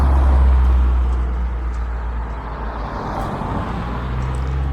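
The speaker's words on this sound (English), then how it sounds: "There's quite a bit of traffic knocking about" Road traffic on a busy main road, a continuous loud rumble of cars and heavier vehicles passing close by, with deep engine drone fading slightly then holding steady.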